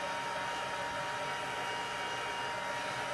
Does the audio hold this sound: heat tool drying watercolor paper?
yes